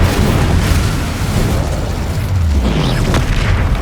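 A fire spell, Incendio, cast during combat in Hogwarts Legacy, bursting out as a loud, steady whooshing roar of flame with a deep rumble underneath, joined near the end by a short falling swoosh.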